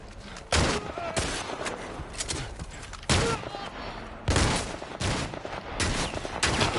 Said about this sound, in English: I'm just like randomly shooting all over the place at this point